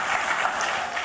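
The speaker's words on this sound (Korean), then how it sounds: "박수 한번 해주시죠" A church congregation at a Sunday service claps to welcome someone back after cancer treatment, a brief, dense and even burst of applause throughout.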